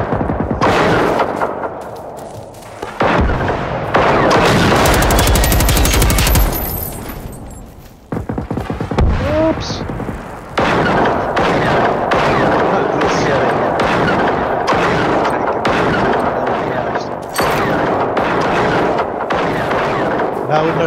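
Loud, dense gunfire in the video game Generation Zero as an enemy is shot: rapid, sustained bursts and heavy booming reports fill nearly the whole stretch, with brief lulls between volleys.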